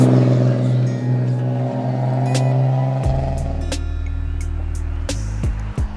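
A Nissan R32 Skyline drives on a mountain road, its engine a steady, loud drone that deepens and grows heavier around the midpoint as it passes close, with no talk over it.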